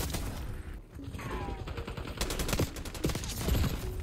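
AK-47 fire in Black Ops 6 crackles in a rapid volley, then a run of sharp, closely spaced shots punches through near and loud with no talking over it.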